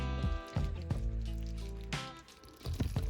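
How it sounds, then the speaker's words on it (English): Butter and sugar are stirred in a pan over heat for an amaretto pound cake glaze, making soft wet squishing and scraping strokes in an irregular rhythm, fairly quiet and close. "I'm just going to stir until our sugars have just about dissolved"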